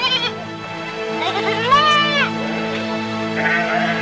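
Several goats bleating in a narrated Islamic tale, a long wavering bleat in the middle over steady background tones and quieter calls, close and clear.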